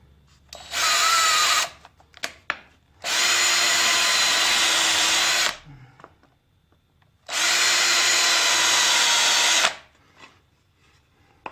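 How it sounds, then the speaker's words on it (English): Power drill cutting countersinks in parts for a foundry molding flask, three long steady high whining bursts separated by pauses with small handling knocks, loud and close, no talking. "That way I can go ahead and do my countersinks kind of in the middle."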